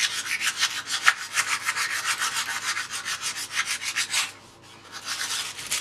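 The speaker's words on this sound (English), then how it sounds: "I'm just going to scuff up the bar at the point where I'm going to be soldering." Rapid back-and-forth scrubbing of abrasive against a metal bar, a steady rasping rhythm close up that pauses briefly near the end before resuming, with no talking.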